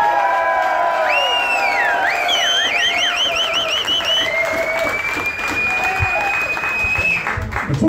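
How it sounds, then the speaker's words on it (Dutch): A crowd at a book presentation applauds and cheers for Alexandra after her performance, with whoops and whistles riding over steady clapping, loud and close throughout. "eerst even allemaal een groot applaus voor Alexandra"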